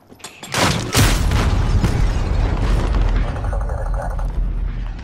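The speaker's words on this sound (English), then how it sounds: "friendly precision airstrike inbound" A precision airstrike detonating in Call of Duty: Modern Warfare, a sharp loud blast followed by a sustained heavy rumble of explosions and debris that rolls on for several seconds.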